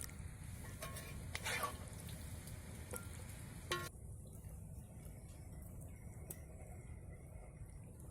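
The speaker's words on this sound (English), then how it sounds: "This is a stir fry." Stir fry sizzling in a pan over an open campfire at a palm-frond teepee camp, a steady low crackling fry with a few brief clinks, no voices.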